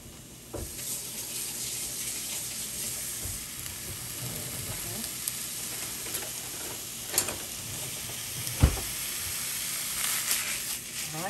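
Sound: mild Italian sausage sizzling in pan on stove

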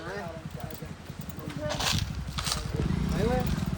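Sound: racehorse hooves clip-clopping at village horse race

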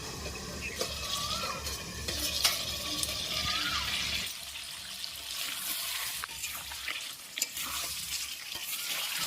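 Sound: country chicken being sautéed and stirred on low heat

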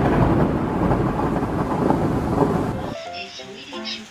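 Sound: rain with thunder

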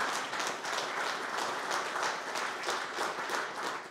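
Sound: audience applause at a security awards gala

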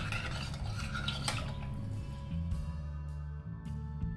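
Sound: stirring a mixture

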